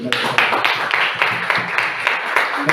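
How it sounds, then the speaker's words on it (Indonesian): Classroom applause from students after a group presentation, a short burst of quick, steady clapping from several people close by that fills the whole moment. "Tepuk tangan dulu."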